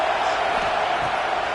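A football stadium crowd keeps up a steady, dense roar backing the defense on a big third down, loud and continuous with no breaks.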